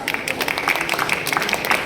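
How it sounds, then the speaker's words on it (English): A crowd at a jewellery show event applauds, giving a brisk, fairly close patter of many hands clapping at once, steady and moderately loud throughout. "Let's give her a huge round of applause."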